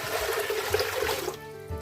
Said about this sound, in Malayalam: ഞാനിപ്പോൾ അരി വേവിക്കാനായിട്ട് ഒരു ചരുവത്തിൽ ഞാനിവിടെ വെള്ളം ഒഴിച്ചു കൊടുക്കുന്നത്